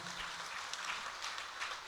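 A church congregation claps for a priest's birthday mass, a steady, faint patter of applause filling the room from a distance.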